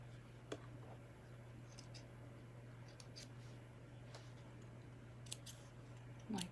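Scissors snip thread while a fabric memory bear is sewn, giving a few faint, sharp clicks spaced a second or two apart over a steady low electrical hum in a quiet room.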